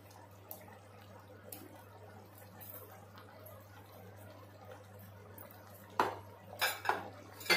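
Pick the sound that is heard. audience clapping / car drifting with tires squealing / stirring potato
stirring potato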